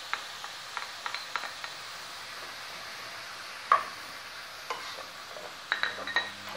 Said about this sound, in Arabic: دوكا نضيف هذيك الحبه تاع فلفل باش تطيب مع البصل سوا سوا هكذا